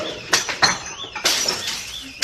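Glasses and a bottle smash in a steakhouse, with two loud crashes of breaking glass followed by tinkling, scattering shards close by.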